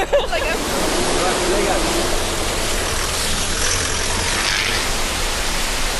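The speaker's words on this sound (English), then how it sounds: "You hear the waterfall?" A steady, broadband rush of a waterfall in Tierra del Fuego fills the whole stretch, constant and loud, with a faint low engine-like rumble underneath.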